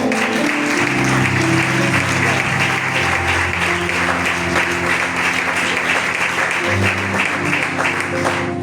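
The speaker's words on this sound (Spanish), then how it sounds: "le da un fuerte aplauso" A congregation at a Spanish-language church service breaks into loud, continuous applause, a thick steady roar of clapping layered over sustained musical tones and some voices.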